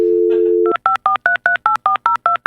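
A telephone dials out: a steady dial tone is followed by a quick, even run of about ten touch-tone beeps, loud and close, with no voices.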